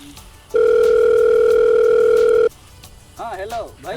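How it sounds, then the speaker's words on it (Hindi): A steady telephone dial tone sounds loud and unbroken for about two seconds while a call is placed in a Maithili comedy skit, then stops and a voice begins talking. "तू अपने भैया के बुलावा जल्दी फोन लगावा।"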